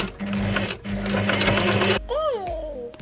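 A sewing machine whirs steadily for about two seconds, pausing briefly midway, then stops as a voice rises in a sing-song tone.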